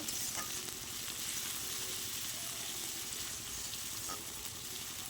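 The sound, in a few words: frying ginger, garlic and onion in a pan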